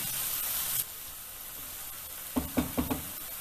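Leafy vegetables and coriander stalks cook in a bean, pasta and vegetable soup pot. A hiss runs through the opening second, then low simmering, then four soft knocks near the end as the pot is stirred.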